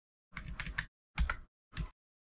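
Three short bursts of keystrokes on a computer keyboard while Python code is typed, a quick run of taps followed by two brief clusters, close and fairly quiet with silence between.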